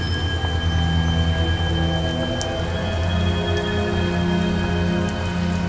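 Steady rain pours throughout a live-action scene from the movie The Amazing Bulk, a dense continuous hiss of drops on surfaces with a low background rumble and no talking.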